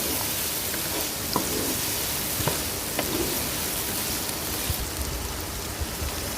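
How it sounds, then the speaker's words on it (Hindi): Chicken pieces with green chillies fry in a pan for chicken vegetable pasta, giving a dense, steady close-up sizzle like rain, with occasional faint pops and ticks. "इसको थोड़ा सा भून लेंगे।"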